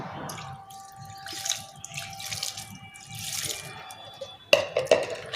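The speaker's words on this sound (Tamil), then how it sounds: "இதில் லைட்டாக தண்ணி தெளிச்சுக்கலாம்." Water is sprinkled lightly onto potting soil mixed with rock salt in a terrace-garden container: a close, steady splashing patter that ends in a few louder drips and splashes.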